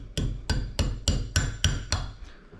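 Seven sharp, evenly spaced hammer taps ring out up close as a firing pin retainer is driven into the slide of a CZ P01 pistol, with no talking.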